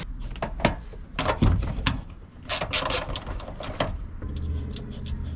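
A ratchet takes the mounting nuts off the rear window of a 1997-2003 Ford F-150, close up. It sounds as bursts of quick clicking strokes with short pauses and some metallic clunks between them, and nobody speaks.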